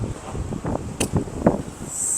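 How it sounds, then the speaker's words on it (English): Wind buffets a microphone outdoors at a plant nursery among potted plants, giving a steady, rough low rumble with gusty swells across the whole moment. "Sorry, it's so windy, y'all."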